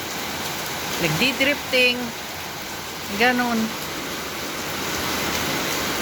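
Heavy rain pours down steadily as a broad, even wash of noise throughout, with people talking briefly in the foreground early on before the downpour carries on alone.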